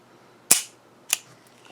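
Two sharp shots from a Ruger SP101 revolver, about half a second apart, each a crisp crack with a short decaying tail, somewhat distant and without talk.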